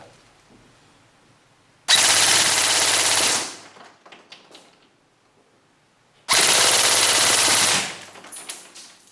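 A Tokyo Marui M4 airsoft rifle fires two sustained full-auto bursts, each roughly one and a half seconds of loud, rapid buzzing, with a short pause between them and a few quiet handling clicks in the gap.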